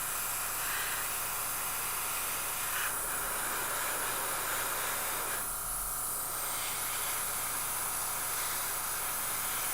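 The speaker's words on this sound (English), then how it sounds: "by airbrush it seems to be working really nicely." Airbrush spraying acrylic paint onto an Ork miniature, a steady close hiss of air running continuously with slight shifts in intensity and no talking.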